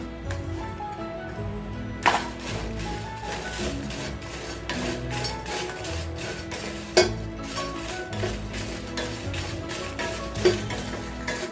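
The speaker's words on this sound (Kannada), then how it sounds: "ಈ ಮೆಣಸಿನಕಾಯಿ ಹಾಕೊಂಡು ಬಾಡಿಸ್ಕೊಳ್ಳೋಣ." Dried chillies are stirred in a warm kadai for a lentil chutney, giving repeated scraping and clinking strokes of the spoon against the pan, close and steady with a few sharper knocks.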